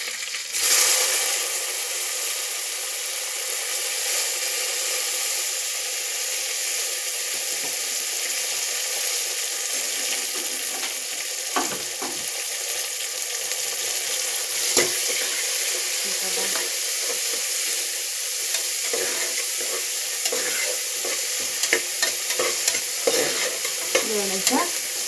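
Chopped tomato frying in oil for Hassan-style mutton sambar, a steady close sizzle throughout with scraping stirs and clinks of a spoon against the pan.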